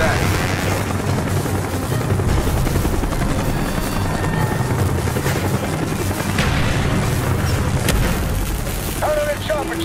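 A helicopter from the video game Call of Duty Black Ops thumps steadily and loudly throughout, with rotor roar mixed with explosions, gunfire and shouted voices.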